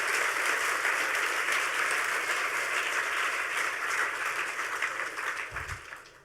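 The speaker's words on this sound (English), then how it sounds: "Round of applause for him, if you don't mind." Audience applause at a hacker conference talk, a steady dense wash of many hands clapping that holds for several seconds and then tapers off toward the end.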